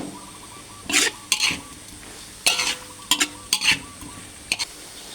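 Shrimp and chili stir-fried in a pan, with repeated bursts of scraping and tossing against a quiet sizzle, about eight sharp clatters spaced irregularly and close up.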